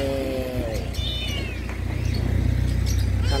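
A tiger-striped tabby kitten at a pet market behind Talad Thai meows in a few short, high calls over a steady low engine-like hum and market noise.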